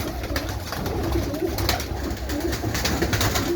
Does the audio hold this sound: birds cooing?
yes